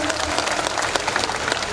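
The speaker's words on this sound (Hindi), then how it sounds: "बहुत बढ़िया, ताली बजाइए।" Loud, dense audience applause at a political event honouring candidates, steady clapping from a large crowd throughout, with a faint murmur of voices beneath.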